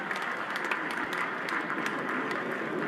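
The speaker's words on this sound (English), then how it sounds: "Alex gets a well-deserved round of applause from the JetBlue Park crowd" A baseball crowd at JetBlue Park gives a sustained round of applause, a dense wash of many hands clapping at a steady level without a break for about three seconds.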